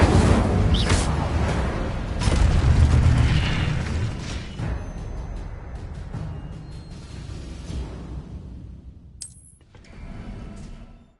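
Fire spell blasts in Hogwarts Legacy, a run of booming bursts and whooshes that are loud at first, then fade into a quieter rumble with a late sharp flare.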